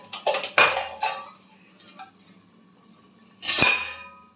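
Metal utensil scrapes and clinks against a plate as fried leafy greens are moved from a kadai in a home kitchen, in a few sharp bursts with a quieter gap between them.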